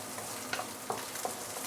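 Shallots, ginger, garlic and fresh coriander roots frying in oil in a pan: a steady, fairly soft sizzle with a few sharper crackles and stirring, heard up close with no voices.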